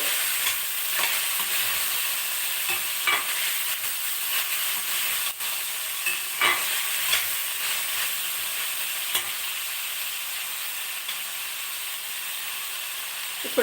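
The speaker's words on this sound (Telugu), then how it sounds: "చూడండి ఇలాగా మొత్తం వేయించుకోవాలి" Ivy gourd masala curry frying in a pan, with a continuous sizzle and periodic scraping stirs over the whole stretch, and no one speaking.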